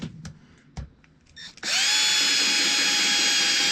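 A cordless power drill drives screws into wood for a lathe-turning project, a few faint clicks and taps first, then a loud, steady whine that starts abruptly and holds close up.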